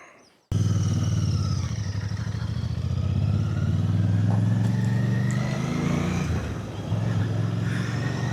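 A Royal Enfield Bear 650 motorcycle engine starts abruptly and settles into a loud, steady, throbbing idle close by, with a few faint knocks and no speech.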